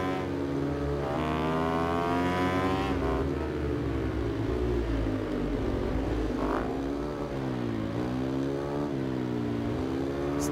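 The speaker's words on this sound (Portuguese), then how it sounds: "São 16 motos correndo." A KTM Duke 690 in the Ride 2 motorcycle racing game races among sixteen naked-class bikes, its engine winding up and shifting through gears in repeated rising sweeps, with other bikes droning close alongside.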